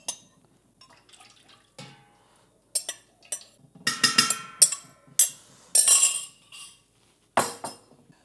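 Liquid palm oil being stirred into a soap mixture, giving a run of light clinks, drips and scraping strokes in short bursts, close up and alone.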